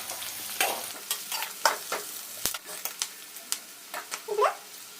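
A spoon stirs turmeric into lemon rice in a pan, producing intermittent scraping strokes and soft sizzling bursts at an uneven rhythm, up close, with a faint voice now and then.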